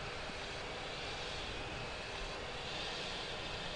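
A Yak-40 jet engine spinning up on an air starter, a steady, loud broadband whine and rush holding level and unbroken throughout, with no talking.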